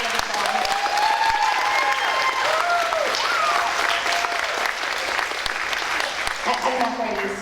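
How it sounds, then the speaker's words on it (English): An audience at a dance school event breaks into sustained, loud applause for a dance teacher, dense clapping with crowd voices and cheers mixed in throughout. "Let's give her a big round of applause."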